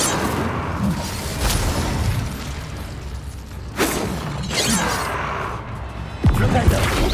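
Incendio fire spell cast during combat in Hogwarts Legacy, with crashing impacts and whooshing bursts scattered across a noisy battle, several loud hits spaced a couple of seconds apart.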